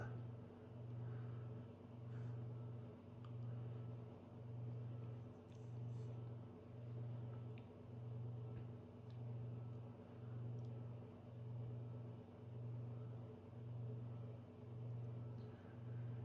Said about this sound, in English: Being a late 90s Encon, it is a pretty noisy with the hum.